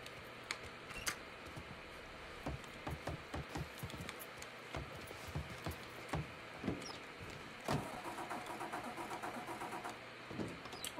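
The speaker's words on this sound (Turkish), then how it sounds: "Araba çalışmıyor." A car in the Mafia 3 video game fails to start, giving repeated short clicking and cranking bursts at irregular intervals, fairly faint and without talk.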